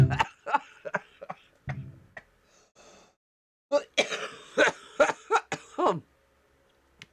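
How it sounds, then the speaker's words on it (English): A person coughs and clears their throat again and again in irregular bursts, close to the listener, with short quiet gaps and a few breathy sounds between them. "I'm coughing."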